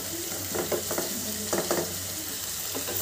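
Onions fry toward golden brown for a mutton chop dish, a steady close sizzle with soft intermittent stirring bursts.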